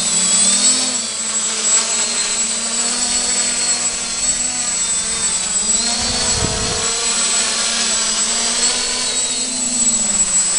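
A home-built quadcopter on a KK 2.0 control board flies with a steady high-pitched motor whine and drone, its pitch rising and falling slightly as it maneuvers, heard close and unbroken throughout.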